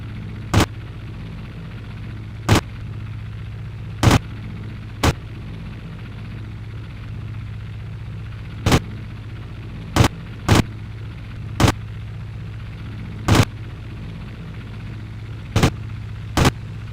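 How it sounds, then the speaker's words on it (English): Aircraft machine gun in the Aces High flight combat game fires about a dozen short, sharp bursts at irregular intervals, loud and punchy against a steady low engine drone, with no talking. "Aim below it and miss, and then walk your bullets up. Short bursts."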